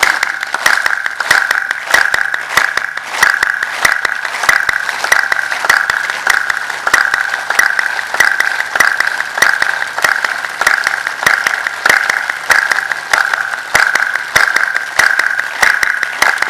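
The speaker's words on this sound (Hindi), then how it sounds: "और अब 30 दफा जम के पूरी ताकत से पूरा ताली बाजन कीजिए" A group doing a yoga exercise claps hard and steadily, with loud, evenly spaced claps repeating rhythmically about thirty times without pause.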